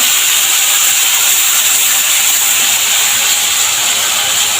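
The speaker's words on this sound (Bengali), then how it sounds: "ব্লেন্ড করা পেঁয়াজ আর কাঁচামরিচ দিয়ে দিয়েছি।" Blended onion and green chili hitting a hot curry in the pan, giving a loud, steady sizzling hiss that runs unbroken and close throughout.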